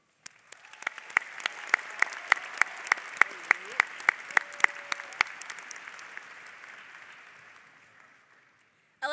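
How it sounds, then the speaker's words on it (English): A high school graduation audience applauds the choir, band, orchestra and JROTC at an evening ceremony. Crisp, distinct claps build into a full wave of applause, then taper off over several seconds until it falls quiet. "Give our choir, band, orchestra, and JRTC a big round of applause for adding to our ceremony this evening."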